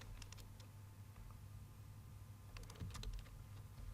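Bursts of quick clicking keystrokes on a computer keyboard while entering text into a table in MS Word 2016, close and quiet, in two short clusters separated by a pause, with no talking.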